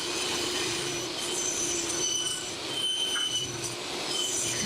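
A saw rips wood into 4 1/4 inch strips, giving a loud, steady, continuous whine with broadband cutting noise that holds for several seconds with slight dips, with no talking.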